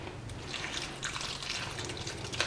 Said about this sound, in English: I just add it to my watering can and water my plant